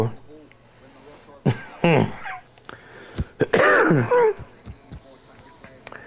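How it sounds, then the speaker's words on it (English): Several harsh, wheezy coughs come in short bursts, close and loud, with quiet pauses and a few breathy sounds between them. "I'm taking a quick cough break"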